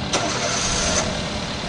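A car engine starts in the horror game Evil Nun, a brief cranking burst followed by a steady broadband engine roar at moderate loudness, with no speech.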